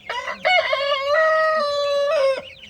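A young rooster among chicks gives one loud, close crow, a sustained harmonic call lasting over two seconds, heard alone without talk.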